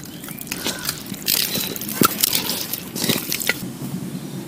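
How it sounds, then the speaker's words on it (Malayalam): Yogurt marinade with ginger garlic paste is stirred by hand, giving wet squelching and squishing in irregular bursts, close and fairly loud, with a few sharp clicks. "ഇനി നമുക്ക് കുറച്ച് ജിഞ്ചർ ഗാർലിക് പേസ്റ്റ് കൂടെ ഒഴിച്ചിട്ട് നന്നായിട്ടൊന്ന് ഇളക്കാം"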